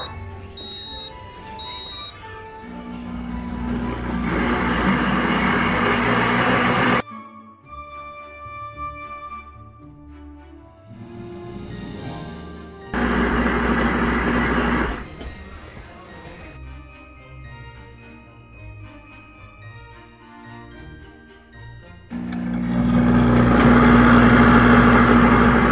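A Pampered Chef Deluxe Cooking Blender running on its sauce setting gives three loud bursts of broadband whirring, each a few seconds long. Quieter stretches of steady tones and faint beeps separate the bursts.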